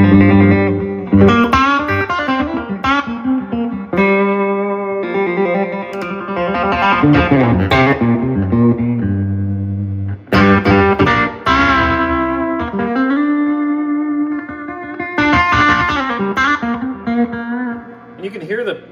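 A Little Crow Blues Plank NT-6 MKII six-string electric guitar plays bluesy phrases of chords and single notes through effects, with breaks between passages.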